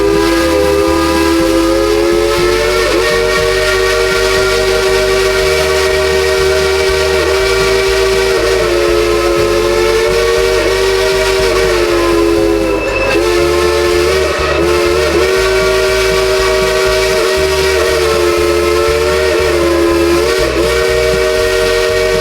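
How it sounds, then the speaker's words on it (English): The Dollywood Express steam train whistle sounds long and loud, a sustained multi-tone blast held almost without a break, over the low rumble and chuffing of the engine. "Whoa, whistle."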